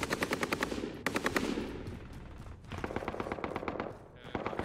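Automatic weapon fire in Call of Duty Warzone Pacific, rapid sustained bursts of gunshots in quick succession, loud and close, with a brief pause between bursts.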